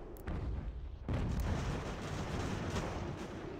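Cannon artillery fire in the Ultimate General: American Revolution strategy game, a heavy continuous rumble of booms with a sharp onset partway through, sustained and fairly loud.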